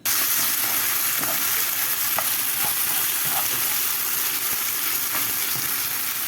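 Meat roasting and sizzling in a pan for barbecue meze in a garden, a loud, continuous dense fry hiss with occasional soft pops and stirring scrapes, steady throughout with no voices.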